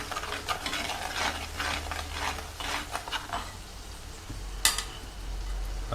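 A spoon stirs ground fenugreek, turmeric, chili powder and salt together for a mussel pickle, making a soft continuous scraping and rustling with one brief clatter near the end.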